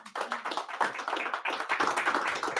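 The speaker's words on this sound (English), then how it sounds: "give her a round of applause." An audience at a tax seminar meeting gives a short burst of applause, dense close clapping from many hands lasting a couple of seconds.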